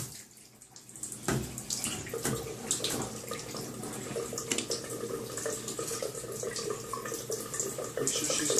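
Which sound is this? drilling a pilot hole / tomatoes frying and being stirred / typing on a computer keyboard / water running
water running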